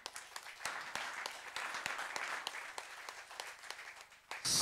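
Audience applause at a formal gathering welcoming a guest, a dense steady wash of clapping with sharp individual claps standing out, sustained and fairly close, ending in a louder burst.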